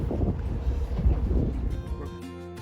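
A 2020 Sea Ray SLX 310 runs on open water with a steady low engine rumble, wind buffeting and hull-and-water rush, and a voice begins near the end.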